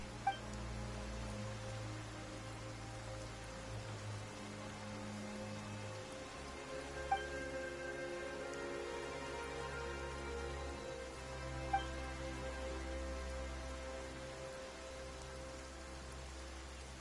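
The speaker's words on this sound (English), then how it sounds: "it raining all of a sudden?" Soft, steady rain falls in the video game Genshin Impact, a faint even hiss of drops on surfaces continuing throughout with occasional tiny taps.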